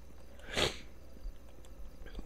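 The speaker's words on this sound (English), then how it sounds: "I'm sniffling again" One short, sharp nasal sniffle from a person sitting close, a brief breathy burst early on over quiet room hiss.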